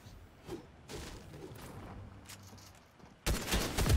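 Gunfire in a video game arena, including a shotgun: scattered muffled shots and thuds, then a loud burst of heavy blasts near the end.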